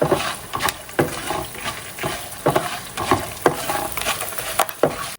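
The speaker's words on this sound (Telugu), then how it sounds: "సాల్ట్ అన్నీ వేసి మంచిగా ఫ్రై అవ్వాలి" A spice tempering with salt frying in a pan, a soft continuous sizzle broken by repeated sharp scraping strokes as it is stirred, close and fairly loud with no talking.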